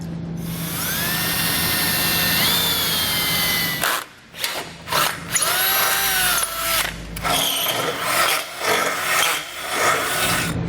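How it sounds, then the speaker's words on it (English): A power drill whines steadily as it bores into a metal bumper beam of a 2011 Ford Fusion, stepping up bit sizes, its pitch shifting, then cuts out and restarts in several short, uneven bursts. "make a small hole and kind of work our way up in drill bit sizes"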